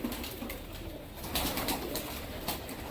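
Punjabi pigeons coo softly and repeatedly close by, their low murmuring calls overlapping in a steady ambient hum, with faint rustles and no voices.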